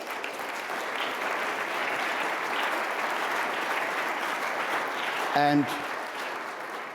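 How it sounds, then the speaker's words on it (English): Sustained audience applause at the Munich Security Conference, given for two speakers at an EU and NATO leaders' debate. A dense, steady roar of many hands fills the hall, with a brief voice near the end. "Let me propose that we offer a round of applause to our two speakers."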